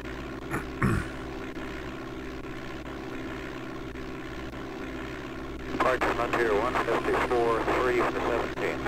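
Steady propeller aircraft engine drone in Flight Simulator 5.1 on DOS, flying near Grand Rapids, Minnesota, as the throttle is eased back. It holds constant throughout, and a crackly radio transmission with a voice joins over it near the end.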